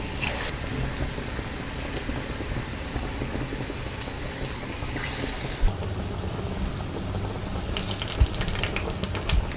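Ulundu bonda, urad dal fritters, frying in hot oil, a steady close sizzle and bubbling hiss that runs continuously without talk, with a couple of faint clinks.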